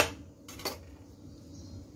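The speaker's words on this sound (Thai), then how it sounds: "เสร็จแล้วก็จะหั่น หัวไชเท้ากับแครอทนะคะ" A kitchen knife slices through daikon radish and carrot, producing a couple of crisp, close cutting knocks with faint room noise between them and no talking.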